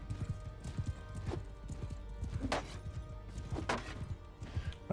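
Horse hooves clip-clop in a video game, a rapid irregular patter of strikes with several sharper impacts standing out, moderately loud and close, with faint background game sounds.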